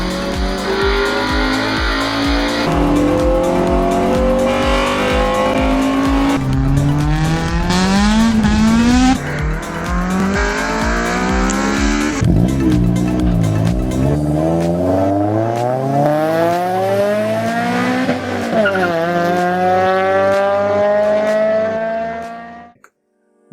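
Honda VTEC engine revs hard and continuously through rising gear sweeps, pitch climbing and dropping at shifts with a high-rpm scream, loud and close throughout with no talking before it cuts off at the end.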